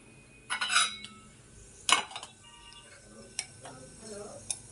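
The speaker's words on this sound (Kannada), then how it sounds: "ಒಗ್ಗರಣೆಗೆ ಸಾಸಿವೆ ಹಾಕ್ತಾಯಿದ್ದೀನಿ" Mustard seeds hitting hot oil for tempering while making onion chutney, giving a few sharp, bright crackles and pops spread over a few seconds, close and fairly quiet, with faint sizzling underneath.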